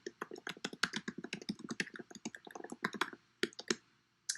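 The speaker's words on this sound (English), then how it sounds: "then I can type in an announcement" Someone types an announcement on a computer keyboard, a rapid close run of crisp key clicks in an uneven patter, slowing to a few isolated taps at the end, with no voices.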